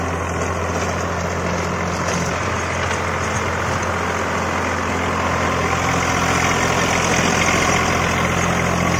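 A Swaraj 744 FE tractor with a 48 HP engine, fitted with a Maschio 72-blade rotavator, idles in a field. Its deep, steady engine drone runs loud and unbroken for the whole stretch, with no voices.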